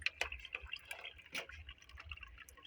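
Dirty water draining out of a front-loading washing machine during cleaning, heard as quiet, uneven trickling and dripping splashes with small bursts, soft and close, with no talking.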